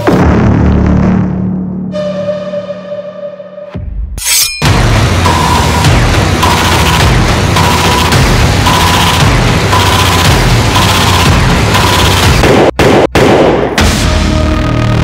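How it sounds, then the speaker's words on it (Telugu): Loud boom of a bomb blast in a television game show, a musical tone cut off by a heavy burst, then a long roaring rumble with further sharp cracks near the end. "ఈ ఫస్ట్ బాంబ్ బ్లాస్ట్ అయిపోయింది."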